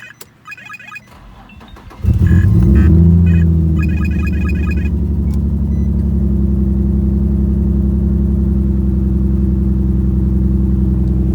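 An Infiniti G35 engine, just fitted with new spark plugs, cranks over with a brief starter whir and fires up, settling into a loud, steady idle that hums on without pause, preceded by faint key and interior clicks.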